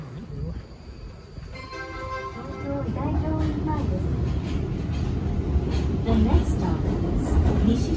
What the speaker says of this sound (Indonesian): Bawah tanah lagi keretanya.